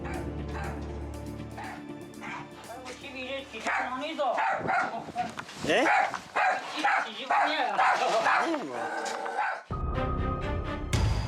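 A small puppy living in a cluttered home yips and barks in short repeated bursts, mixed with household noise and a brief spoken word.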